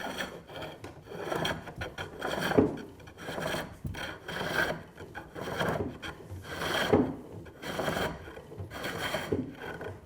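A broad chisel cuts a spinning wood cylinder on a lathe, making a steady rasping, scraping sound that swells and fades in repeated passes, loud and close, with no talking.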